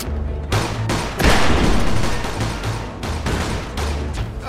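Rapid bursts of gunfire in the Mafia 2 video game crackle loudly, with sustained automatic volleys broken by brief pauses, close and dominant throughout.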